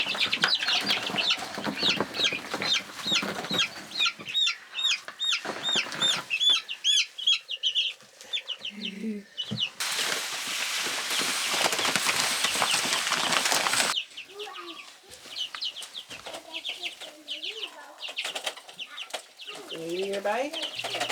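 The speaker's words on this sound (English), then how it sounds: "The chicks are in, settled, and will hang out there for a few more weeks until they're big enough to join the grown-up flock." Young chicks in a pen, peeping and clucking up close with bursts of wing flapping and rustling, a loud noisy stretch midway, and some talk between the calls.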